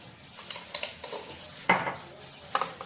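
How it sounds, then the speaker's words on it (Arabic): A utensil stirs and scrapes seasoned onion, sprinkled with salt, black pepper and paprika, in a pan, with soft sizzling under a series of light clinks and scrapes. "واقلب البصله دي كويس اهو"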